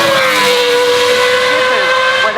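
Ferrari convertible spider at the Goodwood Festival of Speed, its engine howling loud and close with a steady high tone that shifts pitch as it passes, briefly and without pause.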